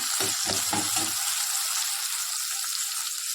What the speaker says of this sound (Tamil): 20 சின்ன வெங்காயத்தை நம்ம வந்து ஆட் பண்ணிக்கிறோம்